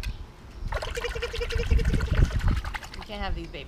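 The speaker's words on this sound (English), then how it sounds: "Splash the water." A small child splashing water in a kiddie pool, with a few close liquid sloshes and trickles while an adult talks over them.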